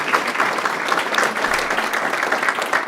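An audience at a board of education meeting applauds an Early Childhood Educator of the Year award winner with steady, dense clapping that stays close and fairly loud from start to finish.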